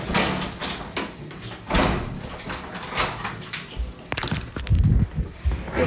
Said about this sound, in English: I'm literally just going to answer this door to McDonald's.